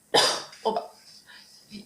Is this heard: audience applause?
no